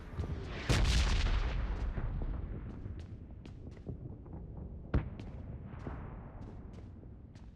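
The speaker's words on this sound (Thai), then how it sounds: "เสียงปืนได้ยินอยู่ข้างหน้านะครับ" Gunfire in the PUBG Mobile battle game, with one heavy blast up front followed by sporadic sharp shots and cracks, some nearer and some distant, over a rumbling background.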